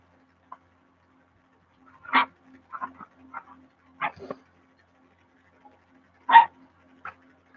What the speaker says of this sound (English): I have a wiener dog that I rescued a couple years back